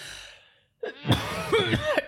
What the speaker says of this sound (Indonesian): Batuk terus.